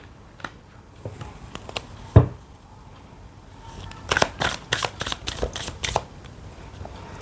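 Tarot cards shuffled by hand in a quiet room: soft riffling and a sharp slap near the two-second mark, then a busy run of crisp ruffling bursts, close and alone without talk.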